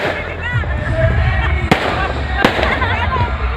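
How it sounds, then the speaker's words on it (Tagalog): Fireworks crackle and pop amid crowd noise and chatter at a large outdoor political rally, with two sharp bangs standing out above the steady din. "Nandito yung fireworks sa likod."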